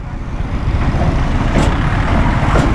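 Trucks and other vehicles rumble steadily in heavy road traffic near a demolition site in Dehradun, a dense continuous roar with faint hiss bursts from brakes, no talk.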